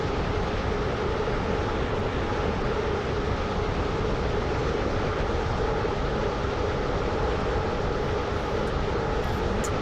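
A train runs steadily in the Roblox game Stepford County Railway, a dense continuous rumble and rail roar that holds at an even loudness throughout without letup.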